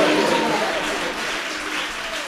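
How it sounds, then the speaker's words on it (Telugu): Congregation at a Telugu church service clapping to give glory to God, a loud, continuous wash of many hands applauding, with faint voices mixed in beneath the dense clatter. "చప్పట్లు కొట్టి దేవుని మహిమ పొందుకోండి."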